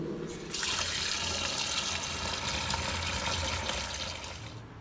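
Running tap water splashes steadily over chicken pieces cut for biryani in a sink, starting after a brief pause and holding a constant broadband rush until the flow trails off near the end.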